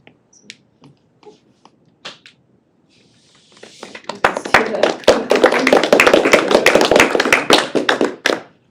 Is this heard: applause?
yes